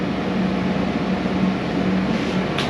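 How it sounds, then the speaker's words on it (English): A steady, droning air conditioner hum fills a resort suite room in Varadero, Cuba, a constant low whir with no breaks. "Here you got AC in both rooms"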